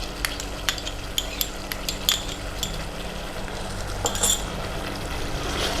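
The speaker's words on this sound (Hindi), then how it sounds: "चिकन भी भुन रहा है मसाले के साथ।" Chicken sizzling with spices in a pan while being stirred; steady frying hiss with scattered spatula scrapes and clinks against the pan, no talk.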